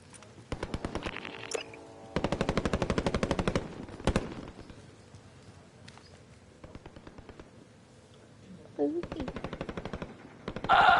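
Rapid automatic gunfire in the battle-royale game Call of Duty Warzone comes in repeated loud bursts and scattered single shots, with players talking over the fighting.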